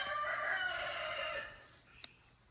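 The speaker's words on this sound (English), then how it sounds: "my roosters are having a crowing fest" Several roosters crow outdoors; one gives a long, drawn-out call that fades off, followed by a brief sharp click; the crow is somewhat distant and clear.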